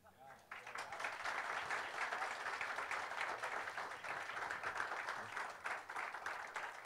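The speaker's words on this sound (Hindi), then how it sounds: "ये तालियां हम पहुंचा देंगे" Sustained audience applause fills a Hindi literary event hall, a dense, steady wash of many hands clapping at close range for the full length without a break.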